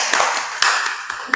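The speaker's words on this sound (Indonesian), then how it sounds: "Tepuk tangan buat semuanya." A classroom breaks into applause, a dense close wash of clapping hands with a few sharper individual claps standing out over about a second and a half.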